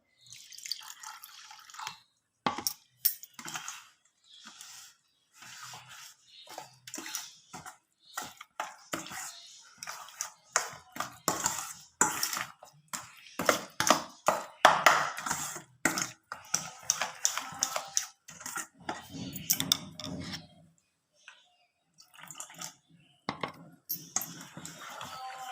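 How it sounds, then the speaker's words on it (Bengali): Uttapam batter being stirred by hand while water is added little by little, giving a long run of wet, squelchy, dripping strokes in an irregular rhythm with brief pauses, close and fairly loud. "অল্প অল্প করে জল দিয়ে দিয়ে এটাকে গুলে নিতে হবে।"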